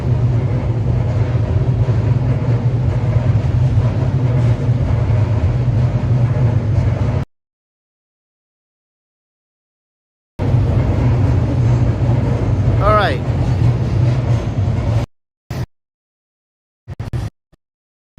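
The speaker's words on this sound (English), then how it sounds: "Train is just going over the tracks there." A train rolling over the tracks near Ueno and Akihabara in Japan, a steady loud low rumble for several seconds, dropping out, then resuming with a brief squeal before fading into short bursts.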